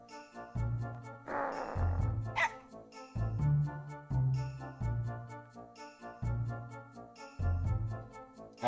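Dog in the video game Mega Man Legends, barking amid steady game music with a tinkling jingle, short bursts recurring through the loop.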